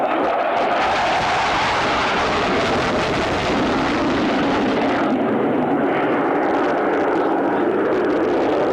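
A US Air Force jet at an airshow roars past with loud engines, a broad sustained rushing thunder that fills the whole clip and eases slightly toward the end.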